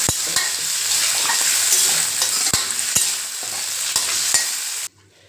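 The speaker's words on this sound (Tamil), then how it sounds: "தக்காளி வந்து நல்லா குழஞ்சி வரணுங்க அது வரைக்கும் நல்லா வதக்குங்க" Tomatoes sautéing in a pan for a Kasimedu-style fish curry, a steady loud sizzle broken by repeated sharp scrapes and taps of a spoon as they are stirred, ending abruptly in near silence.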